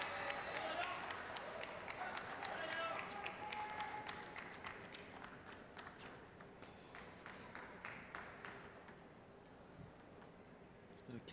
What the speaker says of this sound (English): It's like more muted applause at this point.